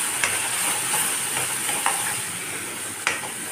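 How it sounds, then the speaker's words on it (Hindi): Garlic, onion and ginger masala paste fries in a pan with a steady dense sizzle, broken by a few sharp scraping stirs, close and continuous without speech. "लहसुन प्याज और अदरक का मसाला जो है भुन रहा है अभी"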